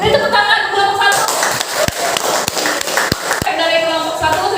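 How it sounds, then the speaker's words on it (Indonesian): Group applause breaks out in a classroom presentation session, a burst of clapping with several sharp, distinct claps standing out, surrounded by a speaking voice before and after. "Beri tepuk tangan kelompok 1."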